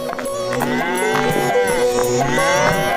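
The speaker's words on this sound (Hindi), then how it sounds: "भीखू बैलों को लेकर अपने गांव धौलपुर की तरफ चलने लगा" A pair of bulls lowing, deep drawn-out moos overlapping one another, close and clear as a sound effect in a story.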